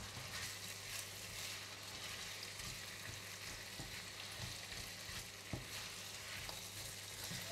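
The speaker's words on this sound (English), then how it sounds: "Next, add in all of the onions. Give it a stir and continue to cook for about 3 more minutes" Onions frying in a pan for a tomato sambal with chicken, a steady close sizzle running throughout with occasional soft scrapes and knocks of stirring.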